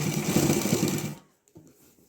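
A sewing machine stitching a cloth box bag runs in a loud, steady whir for just over a second, then stops abruptly, leaving a few faint handling knocks.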